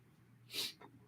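A single short, breathy sneeze, quiet and somewhat distant, sits alone against a faint background hum.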